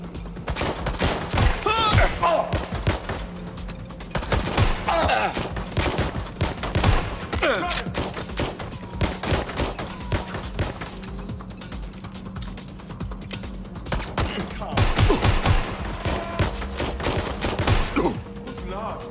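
Dense bursts of gunfire fill a Watch Dogs: Legion firefight, with sharp shots and rapid volleys arriving in clusters over a steady background hum, loud and close throughout.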